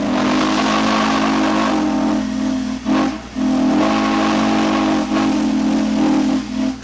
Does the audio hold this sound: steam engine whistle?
yes